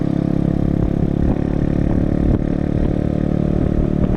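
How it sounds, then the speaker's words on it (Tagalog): A freshly repaired motorcycle engine runs at a steady idle nearby, a continuous low rumble with light mechanical clatter throughout. "hindi na maingay yung makina niya"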